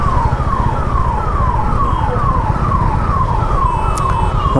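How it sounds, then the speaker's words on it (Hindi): An ambulance siren wails in steady repeating downward sweeps amid road traffic, loud and continuous with a low engine rumble underneath. "एम्बुलेंसेस,"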